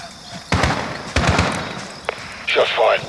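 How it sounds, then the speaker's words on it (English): Sharp gunshots in Call of Duty: Modern Warfare (2019), a night raid on Barkov's house: two loud cracks, a brief third snap, then a burst of shattering noise, with voices talking in between. "Shot's fired."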